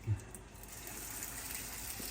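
Battered cod pieces go into hot frying oil, giving a steady, moderately faint hiss and sizzle of bubbling oil with a brief louder splash at the start.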